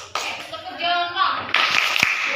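A class of students gives a group thumbs-up clap: a voice speaks first, then a couple of short, sharp bursts of clapping from the group.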